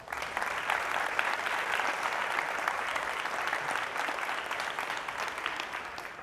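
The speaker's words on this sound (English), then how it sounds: "let's give them a big round of applause" An audience at a Project Endure event breaks into sustained applause after a speech, a dense, even wash of many hands clapping heard from a moderate distance, holding steady throughout.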